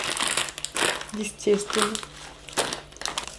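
A plastic bag of snacks crinkles and rustles in hand, close bursts of crumpling broken by short pauses, with someone speaking briefly over it.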